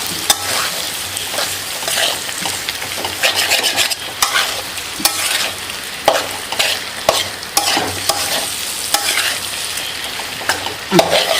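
Beef and plantain frying in ghee are stirred in a pan, with a continuous sizzle broken by repeated scraping strokes and clinks of the spoon at an irregular rhythm, close and without speech.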